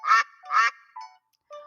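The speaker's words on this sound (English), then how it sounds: ""Quack, quack," called the duck." A farm duck from a children's storybook quacks twice, loud and nasal, then gives two shorter, softer calls after brief pauses, alone with no talk.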